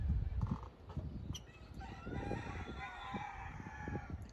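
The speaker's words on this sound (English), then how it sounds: "Y'all hear them roosters?" Roosters crow in the distance on St Thomas in the Virgin Islands, several faint drawn-out calls overlapping across a quiet outdoor background.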